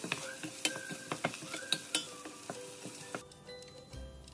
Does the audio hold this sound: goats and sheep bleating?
no